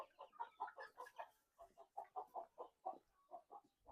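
Bangkok chickens on a village farm cluck and chatter in a steady run of short, rhythmic calls, fairly distant and quiet, with no talking over them.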